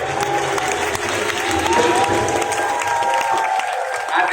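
An audience at a religious debate claps and cheers in a loud, dense burst that carries on steadily, with crowd voices mixed in.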